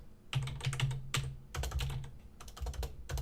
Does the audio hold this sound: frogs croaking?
no